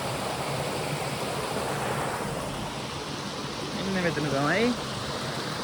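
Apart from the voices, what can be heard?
Paradise waterfall flowing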